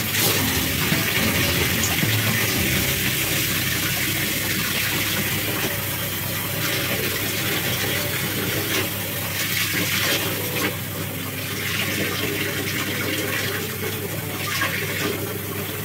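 Warm water pouring from a tap into a container for bathing pet turtles, a loud, steady gushing stream with no talking.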